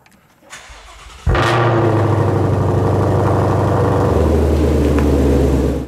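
A Shelby GT500 cold-starts close by. The starter cranks briefly, then the engine catches with a sharp loud burst. It settles into a steady, rumbling high idle that drops slightly near the end, with no talking.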